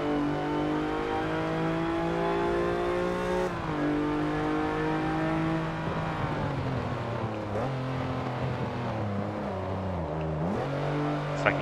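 Chevy Colorado pickup engine in Forza Motorsport 7 revving steadily, its pitch climbing through the gears with a drop near four seconds and dips around eight and ten seconds as it shifts into a second-gear turn, loud and continuous.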